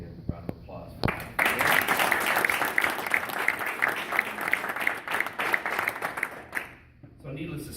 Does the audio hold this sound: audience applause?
yes